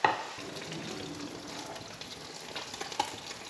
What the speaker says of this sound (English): All right, first batch is in the fryer.